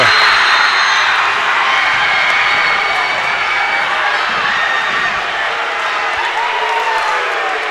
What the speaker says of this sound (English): A lot of booing for the refs, not the players.